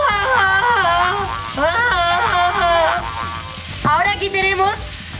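Noodles toasting in a hot pan for fideuà give a loud, steady sizzle and crackle under stirring, while a person talks over the frying throughout.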